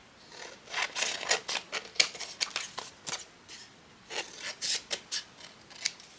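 Scissors cutting down a paper craft topper for a shabby-style card, a close run of short rasping snips in an irregular rhythm, with no talking.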